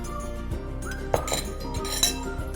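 Yogurt goes into a bowl for a pide sauce, with light spoon-on-dish clinks and a few sharper taps over a low kitchen background.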